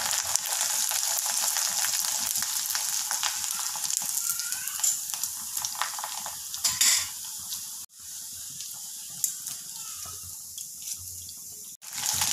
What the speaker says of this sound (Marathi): आता आपण 2 कुरडी आणि 1 पापड हा तळून घेऊया